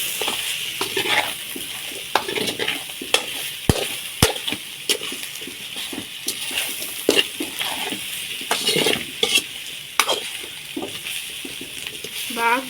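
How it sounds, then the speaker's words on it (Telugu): Raw plantain slices with turmeric and salt stirred in a pan, frying crisp: steady faint sizzle under repeated scraping and clinking strokes of a spatula, near and fairly close together. "ఇప్పుడైతే ఒకసారి కలిపేసుకుందాం."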